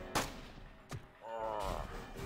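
A single sharp gunshot from a headshot attempt in Jagged Alliance 2, followed by a second quieter report and a low rumbling tail.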